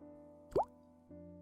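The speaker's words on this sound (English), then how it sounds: "a large drop of water fell on the swallow" A single large water drop plops into water, a short bright close splash with a rising tone, then quiet with a soft hum underneath.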